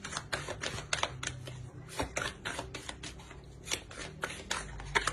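Tarot cards are drawn and laid out on a surface, giving a close, steady run of quick crisp snaps and flicks from the card stock, with no talking over it.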